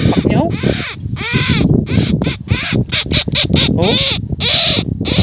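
Young karuba birds calling in harsh, crow-like caws while being caught by hand in a rural Ilocano setting, repeated loud cries close by, mixed with someone talking over them.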